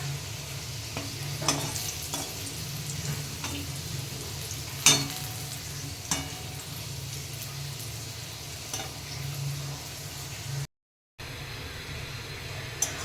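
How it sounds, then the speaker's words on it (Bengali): Potatoes frying with mutton in a hot pan give a steady, soft sizzle, broken by occasional scraping stirs, with no voices over it. "দেখো মটনের আলুটা কষানো হচ্ছে"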